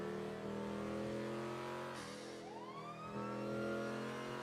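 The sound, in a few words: emergency vehicle siren and car engine in a video game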